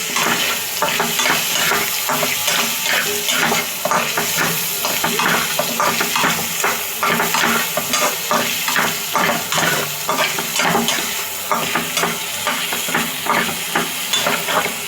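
Cinnamon, cardamom and bay leaf frying in a small amount of oil, stirred briskly: loud continuous sizzle and hiss with rapid, rhythmic scraping strokes of a spoon in the pan, close up and without speech.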